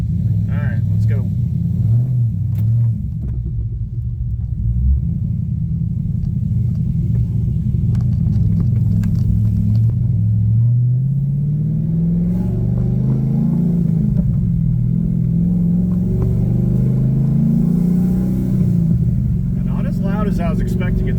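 A Cadillac CTS-V with a newly fitted exhaust rumbles steadily from inside the car while driving, its deep drone rising and falling as the engine revs climb through gears, with talk heard faintly in the cabin.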